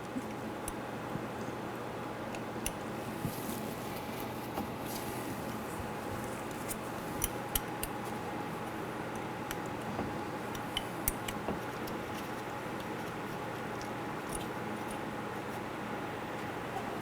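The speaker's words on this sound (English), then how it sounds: "We're going to use a 1/4 inch box wrench to loosen this bolt." A 1/4 inch box wrench works a bolt on a 1997-2006 Jeep Wrangler rear axle, giving sparse, light metallic ticks and clicks over a low steady hum, no talking.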